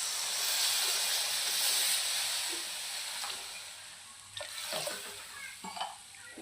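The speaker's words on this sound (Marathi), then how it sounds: "आता आपण यामध्ये पाणी ॲड करूया." Water is poured into a simmering Malvani-style surmai fish curry. A steady steamy hiss and sizzle gives way to a few sharper splashing bursts near the end.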